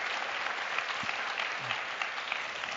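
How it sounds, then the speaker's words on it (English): Steady applause from a crowd at a forum discussion, dense clapping filling the room at an even level throughout. "let's give him a big round of applause for his insightful views and discussion"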